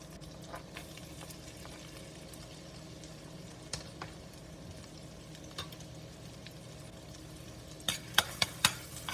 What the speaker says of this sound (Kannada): ಹಾಕಿ ಇವನ್ನಾಗೂ ಸ್ವಲ್ಪ ಫ್ರೈ ಮಾಡಕತ್ತೀನಿ.